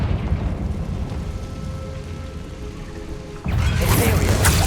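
Confringo fire spell blast in the Hogwarts Legacy video game, erupting suddenly as a loud, broadband burst near the end after a stretch of low rumbling game ambience.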